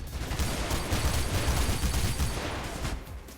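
Machine-gun fire in Mirror's Edge forms a dense, steady rumble of shots that stays even and fairly quiet for the whole moment, with no voices.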